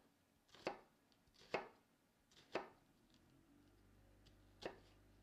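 Knife cutting an onion half into thin slices on a board, four distinct crisp chops spaced about a second apart, close and quiet.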